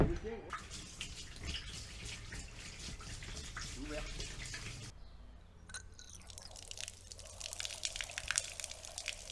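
Water runs from a van's water storage tank, a steady splashing gush that pauses midway and resumes with lighter trickling and drips; people talk over it.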